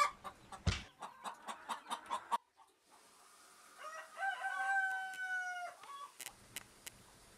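Chickens in a free-range egg barn cluck in a steady run of short calls, then a rooster crows once in a long drawn-out call, followed by more scattered clucking close by.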